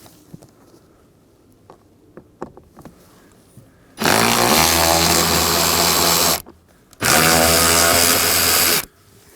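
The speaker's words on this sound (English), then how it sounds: "Now with our tool and a Phillips bit, we can go ahead and back out our 3 Phillips screws." Cordless power tool with a Phillips bit backing out screws from the HVAC blower motor assembly of a 2011–2016 Hyundai Elantra, two loud whirring bursts of a few seconds each after a stretch of small clicks and handling.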